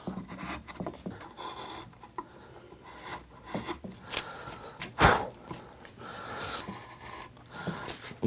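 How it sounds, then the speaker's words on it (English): A number 2 gouge, 30mm wide, carving wood to straighten the walls of cut-in windows, giving soft scraping and rubbing strokes in an irregular series, with one sharper, louder cut partway through, all close and fairly quiet. "So I'm using a number 2 gouge in a 30mm and straighten up some of the walls."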